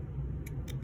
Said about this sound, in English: I'm gonna go through with my cute little trimmer, thread trimmer here, and just trim all these